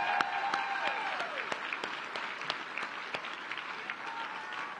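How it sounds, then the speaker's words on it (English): An audience at a city State of the City address applauds, with crisp individual claps standing out over a steady wash of clapping and some voices and tonal sounds mixed in. "any of the ladies in the group may want to stand and give her an applause"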